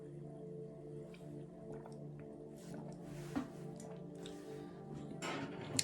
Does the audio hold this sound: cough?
no